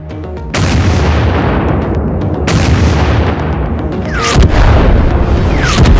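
A heavy KV-6 tank cannon blast in a video game booms, followed by sustained rumbling; a second powerful shot hits about two seconds later and a third near the end, all loud and close.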